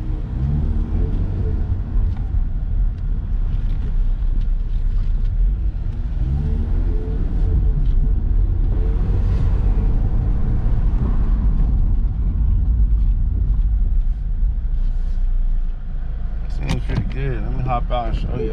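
A Dodge Charger 392 Daytona with a manual transmission sits in the cabin foreground as a steady low engine rumble builds boost while driving, with people talking over it throughout.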